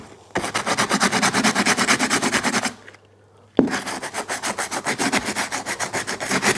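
Oily wet and dry sandpaper rubs back and forth on a garden tool in quick rhythmic scrubbing strokes, close and loud, with a short pause partway through before the strokes resume.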